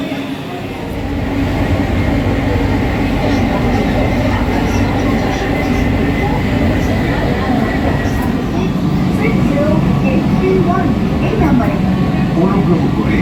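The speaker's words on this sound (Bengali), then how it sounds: "এখন ব্লু লাইনের এসপ্ল্যানেড স্টেশনে আমরা দাঁড়িয়ে আছি। এবার মেট্রো ধরে দক্ষিণেশ্বরের দিকে যাব।" Kolkata Metro Blue Line train at Esplanade station, a steady loud rumble of rail cars and station machinery that holds through the whole span, with faint voices in the background.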